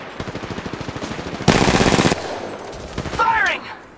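Video game firefight with rapid automatic gunfire, a fast rhythmic string of shots followed by a loud dense burst, then scattered hits and a whining effect near the end, close and loud.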